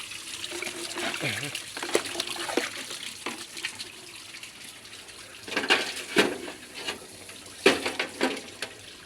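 Dirty water gushing and trickling out of a fish tank water filter during cleaning, an uneven splashing flow with brief louder surges, with talk over it.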